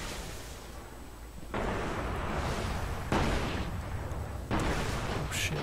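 Heavy weapon fire in the game Destiny during a Clash match, several loud booming bursts arriving in stages over a constant noisy background.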